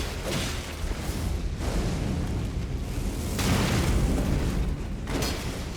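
Explosive bursts from spawned creatures blowing up during an Elden Ring boss fight, a dense, continuous run of booming blasts with two louder surges, loud and close throughout.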